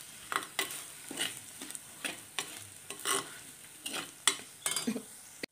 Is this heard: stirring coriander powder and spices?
yes